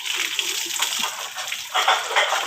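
Water splashes and sloshes steadily while a pet is bathed after shampooing, with close, continuous pouring and splattering sounds.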